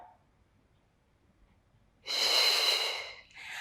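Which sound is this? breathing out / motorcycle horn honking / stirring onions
breathing out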